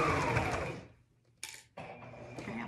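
A sewing machine runs in a short burst through thick fabric seams while a child's hat is made, whirring, pausing in near silence, then starting again in shorter runs.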